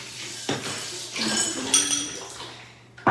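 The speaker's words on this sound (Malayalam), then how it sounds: "പുതിന ഇട്ട് കൊടുത്തിട്ട് നമ്മളുടെ ഐസ് വെച്ച് കൊടുക്കുക" Ice cubes dropped into a glass of lemon and mint drink, giving a few close glassy clinks and rattles, with a bright knock at the very end.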